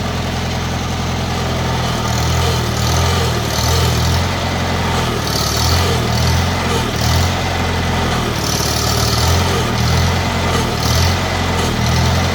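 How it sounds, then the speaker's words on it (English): A rebuilt Farmall Cub tractor engine idles steadily and smoothly up close, its low, even chugging continuous and loud with no voices over it. "Listen to the motor."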